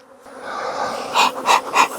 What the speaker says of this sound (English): Now look down here, you'll see there's a lot of bees in here.